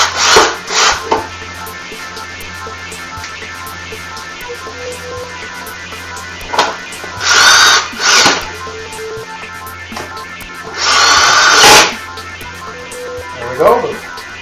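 A power drill drives screws to fasten the back cover onto an Emerson ice cube maker, whirring in several short bursts between pauses, fairly close with some handling noise.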